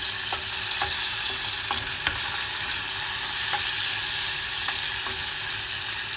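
Garlic sizzling in olive oil in a pan over lowered heat, a dense continuous frying crackle with faint periodic ticks, close and loud throughout.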